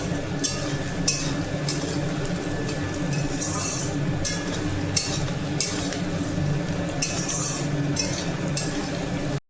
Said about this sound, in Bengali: তো এই যে আমাদের বাড়ির কাজের মাসি এখন মাংস রান্না করছে